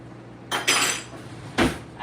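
A metal pot lid set onto a pot of steaming rice on a stove: two quick clanking contacts about a second apart, with a brief ringing clatter, fairly close in a quiet kitchen.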